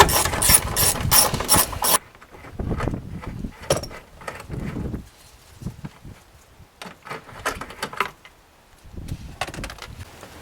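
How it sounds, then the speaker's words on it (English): Ratchet fitted with an 8mm socket undoing taillight securing screws on a Honda Odyssey: close, bursty clicking in short runs separated by quiet gaps, with a louder rattle at the start. "using a ratchet with an 8mm socket, undo the securing screws"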